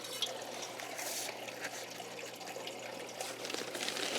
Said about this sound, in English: Okay, so I'll water that in.